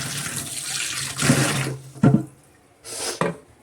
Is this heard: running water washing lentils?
yes